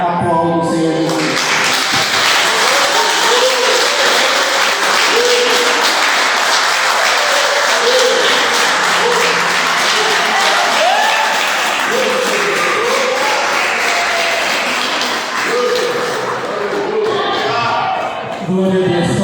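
A church congregation applauds steadily and loudly, dense clapping filling the space without pause for most of the stretch before tapering off near the end.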